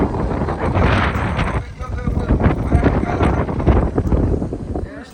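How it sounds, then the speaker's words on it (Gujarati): Cold wind gusts steadily near the seaside Gangeshwar Mahadev temple in Diu, a loud, continuous roar of rushing air buffeting the microphone for the whole stretch, with faint murmuring voices mixed in. "મસ્ત ઠંડો પવન છે."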